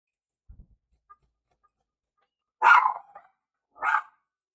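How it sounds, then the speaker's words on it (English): A dog indoors barking at a car outside: two loud, sharp barks about a second apart after some faint small knocks, near and otherwise quiet. "Car outside. Got my dog barking."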